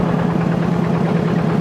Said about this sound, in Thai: เสียงรถไถหลังโหด